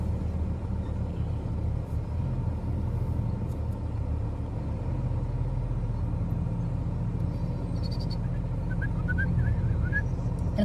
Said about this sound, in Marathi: वाव किती मस्त ट्रॅफिक आहे ना.